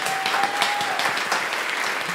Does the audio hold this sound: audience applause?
yes